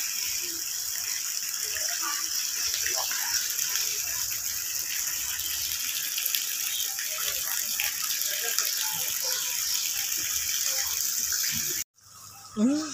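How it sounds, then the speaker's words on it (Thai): A waterfall and spouting water at a café beside rice fields in Sawankhalok, Sukhothai, Thailand: a constant bright rushing hiss of falling water that cuts off abruptly near the end, followed by a short, faint sound. "มีน้ำตก"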